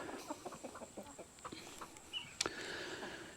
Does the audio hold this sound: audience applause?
no